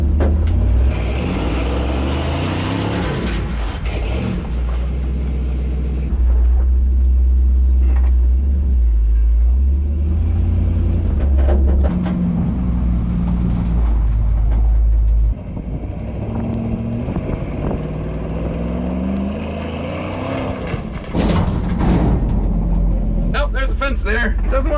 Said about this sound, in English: But I bet it does donuts in the dirt. Let's try that. Donuts in the dirt.